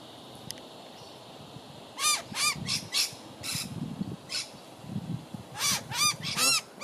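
A butcherbird calls from treetops with a lorikeet nearby, giving bursts of short, loud, ringing notes in quick clusters, separated by pauses over a soft outdoor background.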